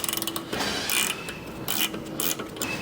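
A ratchet works nuts loose on a Mercedes SL500 ABC suspension ball joint repair, a quick run of close clicking followed by bursts of metallic mechanical rattling and clanks.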